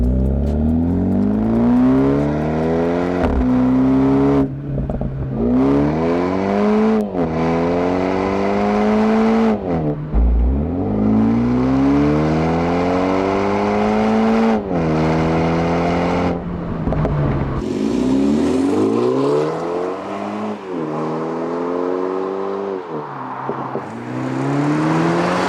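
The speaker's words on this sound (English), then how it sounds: "the tone that comes out of this exhaust is incredible" A BMW G20 330i or G22 430i aftermarket exhaust revving hard again and again, engine pitch climbing and dropping in loud rasping pulls, up close, with no talking.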